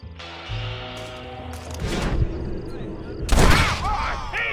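Gunshots in a Red Dead Redemption gunfight, a few loud booming shots and ringing bursts in the Western game, mixed with voices and game sound around them.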